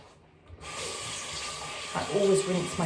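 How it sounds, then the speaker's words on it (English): Tap water runs steadily into a sink while a face is rinsed, starting after a brief quiet moment and continuing as a close hiss with splashing. "I always rinse my face twice, just in case I haven't got any of the product off."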